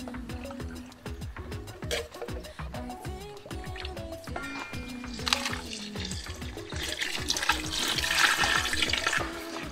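Water pours steadily from a watering can into a small bucket, a continuous close splashing stream that grows fuller and brighter as it goes on, with no voices.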